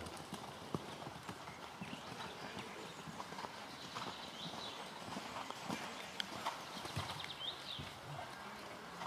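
Horses cantering in a riding arena, with rhythmic hoofbeats thudding faintly and steadily at a distance amid soft background noise and no clear talk.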